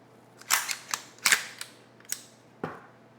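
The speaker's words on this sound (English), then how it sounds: "So you can lock the bolt back" A Sig Sauer Spear LT rifle has its bolt locked back with the ambidextrous bolt catch: a handful of sharp, close metallic clacks and clicks spaced irregularly over a few seconds, with no talk.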